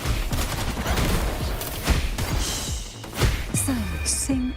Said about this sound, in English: Things are exploding.